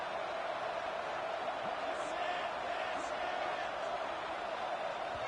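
Steady roar of a stadium crowd at a football game, loud and continuous throughout as fans make noise against the offense, with no distinct individual voices standing out.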